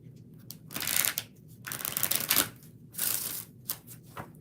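A deck of tarot cards is shuffled by hand in a few crisp, riffling bursts separated by short pauses, close to the microphone, with no talking.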